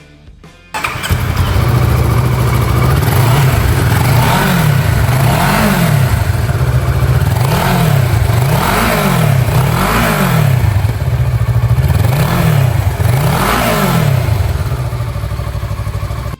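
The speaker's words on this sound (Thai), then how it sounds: "ดูฟังเสียงเครื่องกันหน่อย" A 2015 Kawasaki Versys 650 ABS motorcycle engine starts and idles loudly up close, then is blipped through a series of about eight rhythmic revs rising and falling throughout.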